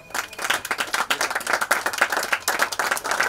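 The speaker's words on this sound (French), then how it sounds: "Sous vos acclamations, s'il vous plaît." Audience applause at a Liberal party gathering in September 2020, steady dense clapping from a crowd with some cheering, sustained and fairly loud throughout.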